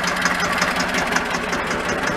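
A 1964 Deutz D15 14 hp tractor engine runs steadily nearby, a continuous loud mechanical chugging with a fast, even knocking rhythm throughout.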